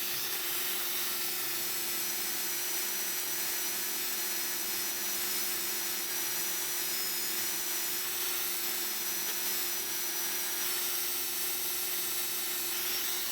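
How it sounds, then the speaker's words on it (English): Steady, continuous scratchy rubbing of 400 grit sandpaper on a metal lock pin, a dense even hiss with no speech throughout. "now we're gonna go ahead and use some 400 grit sandpaper"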